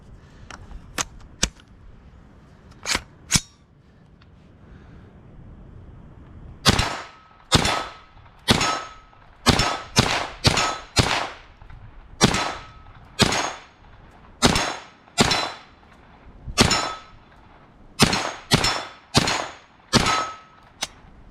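Shots from a 9mm AR-style pistol caliber carbine ring off steel targets, a few scattered sharp cracks followed by a long, steady string of loud, evenly spaced reports, each with a bright metallic ping.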